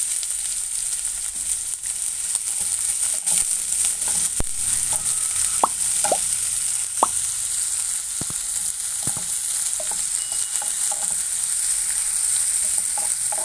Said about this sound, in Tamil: பொடியாக நறுக்கின வெங்காயத்தையும் போட்டுக்கலாம்.